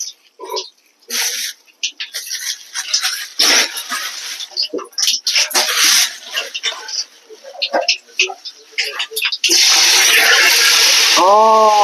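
Curry leaves are rinsed under running water in a kitchen, with splashing and trickling through the middle of the clip under frequent talk, then a steady strong gush of tap water near the end.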